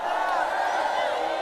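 A crowd at a political rally in Embu market, Kenya, applauds and cheers in a dense, steady roar that fills the whole moment without a break.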